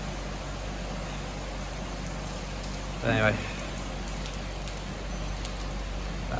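Light rain falls in Kuantan, Malaysia as a soft, steady patter on surfaces, with someone speaking briefly near the middle.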